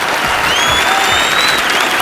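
Loud, sustained applause from a studio audience on a Hindi TV comedy show, steady clapping with faint whistles over it, filling the whole moment without talk.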